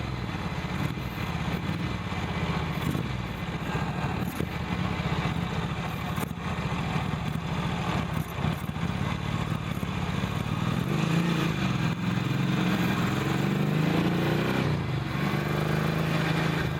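A Ducati motorcycle engine runs steadily throughout, with a low rumbling drone and shifting pitch as it rides on a damp road, continuous and fairly close with no talking.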